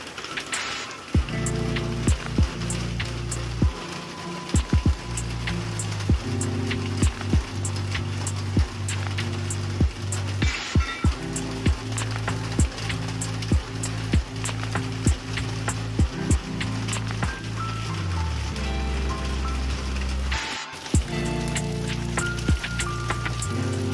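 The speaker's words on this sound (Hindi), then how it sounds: "बारिश गिर रहा है" Steady rain falls throughout, pattering on a hard surface with frequent sharp drips over a low droning hum.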